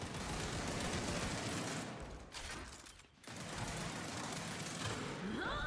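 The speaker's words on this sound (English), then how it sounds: "I shot him a few times." Sustained gunfire in Gears 5, a dense, loud burst of rapid shots that cuts out briefly near the middle, then resumes at full intensity.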